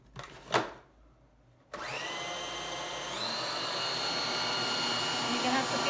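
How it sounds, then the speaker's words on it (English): An electric hand beater whips chickpea bean water mixed with vanilla extract for a chocolate mousse, starting abruptly with a loud steady whir that rises slightly in pitch and holds continuously, following a brief clatter. "Beater's going on."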